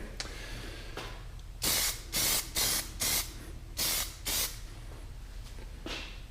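An aerosol can of dip sprays a coat onto MINI mirror caps in a series of about seven short, sharp hissing bursts with brief pauses between, close and alone.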